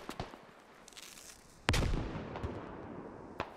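A grenade blows up in the military shooter Squad, one sharp close blast with a rumbling tail, among distant gunshots and scattered cracks.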